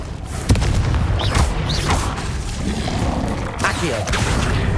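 Confringo spell explosions in Hogwarts Legacy, with several booming blasts and crackling impacts spread across the clip over a steady background of spell effects.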